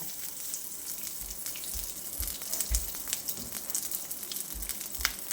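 Garlic sizzles and crackles steadily in hot oil for a vegetable sagu, a continuous close frying hiss with small pops and low bubbling, no voices.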